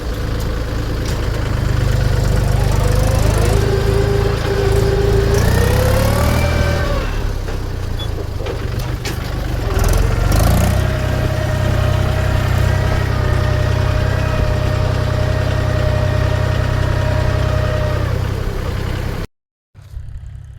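A farm tractor engine runs close by, idling with a steady low rumble that rises and falls in pitch through a couple of brief revs. It continues for about twenty seconds with no talking, then cuts off at the end.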